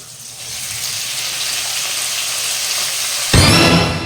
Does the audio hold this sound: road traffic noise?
no